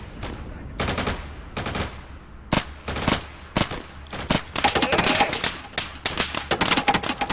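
Gunfire in the co-op video game Insurgency, single sharp shots spaced apart at first, then a denser stretch of rapid overlapping bursts, loud and close.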